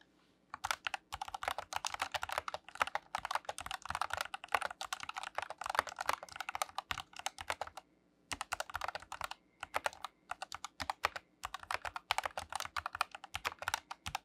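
Fast, continuous typing on a Roccat Vulcan II TKL Pro gaming mechanical keyboard, crisp clacky keystrokes in dense bursts with brief pauses, close and alone without talk.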